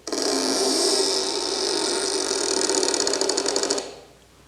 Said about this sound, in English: It's like the sound I recorded 2 days ago with this door